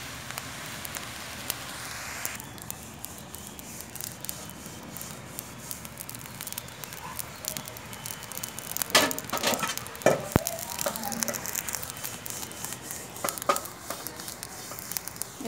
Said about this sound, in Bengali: মাটির চুলার রান্না।